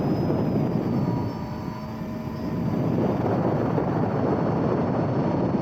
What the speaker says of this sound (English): I can hear the motor losing power